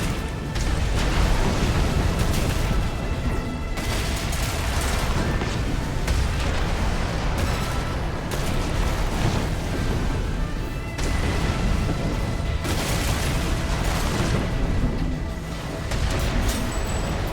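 Explosions in the mech combat game Armored Core VI roar in a dense, loud wall of blasts and rumbling booms that barely lets up, with no talk.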